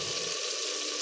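Water pours in a continuous hissing splash into a hot pan of chana dal and keema, sizzling close up for about a second with no talk.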